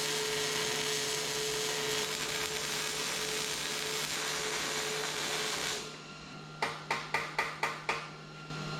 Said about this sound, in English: Weld it.